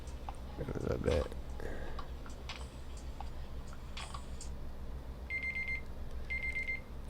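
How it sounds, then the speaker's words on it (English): An alarm going off in a room, two short bursts of rapid high electronic beeps near the end, fairly faint over background noise and some quiet talking and handling sounds. "It's an alarm."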